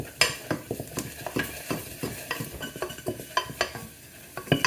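Flour roux toasting in a pot for wild mushroom soup, stirred briskly with a utensil, giving rhythmic scraping strokes over a light sizzle, close and fairly loud.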